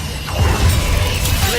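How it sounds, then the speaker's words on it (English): Expelliarmus disarming spell cast in the video game Hogwarts Legacy, a brief loud burst of magical whoosh and crackling impact over low rumbling game ambience. "Expelliarmus!"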